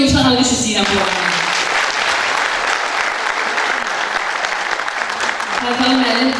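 An audience at a poet's 70th jubilee in Baku applauds in a dense, steady wash of clapping, with a voice speaking over the start and the end.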